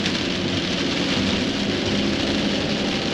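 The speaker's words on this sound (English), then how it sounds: "Raining pretty hard" Heavy rain pours steadily on a moving vehicle during a drive toward Valdez, Alaska, a dense, even hiss of drops drumming on the car with no pauses and no voices.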